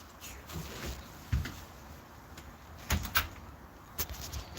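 A house door closes as family members arrive home, with a few muffled thuds and clicks at moderate distance, separated by quiet room tone.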